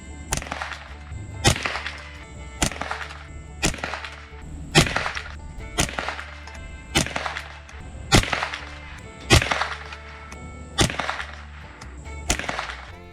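Suppressed rifle firing supersonic rounds at a range, about ten sharp cracks spaced roughly one and a half seconds apart, each loud with a short decay and no talking between them.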